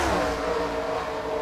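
Race cars run side by side down the front straightaway in a NASCAR-style racing video game, a loud blended engine roar held steadily throughout.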